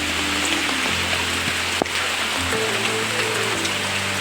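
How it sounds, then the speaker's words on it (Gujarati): Heavy monsoon rain pours steadily on a farm in a dense, continuous hiss, with a sharp knock partway through and a low hum underneath. "તો તમે જોઈ શકો છો આ વાડીએ જોરદાર વરસાદ છે"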